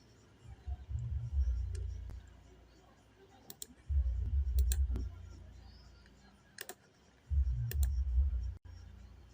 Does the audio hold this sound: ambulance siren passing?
no